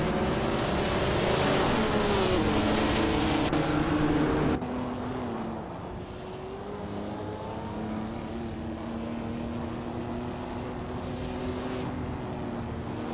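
Race cars in a racing video game, a continuous loud engine roar that shifts pitch as the cars accelerate, then eases into a steady, slightly quieter drone, with no talking.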